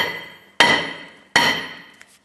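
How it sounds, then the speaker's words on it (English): A hammer strikes the back of a stuck brake rotor on a Chrysler 300 twice, each sharp metallic clang ringing out and decaying, close and loud, followed by a faint small tap. "I'm going to go ahead and tap the back side of the rotor to try and work this off."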